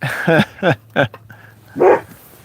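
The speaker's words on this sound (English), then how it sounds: "I don't know what she's barking at, but she heard something" A dog barks about four times at close range, three quick barks then a pause before one more, against an otherwise quiet background.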